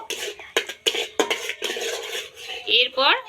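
A spoon stirs palm pulp batter mixed with salt in a bowl, giving a few sharp close clinks and scrapes in an uneven rhythm, with a brief vocal sound near the end.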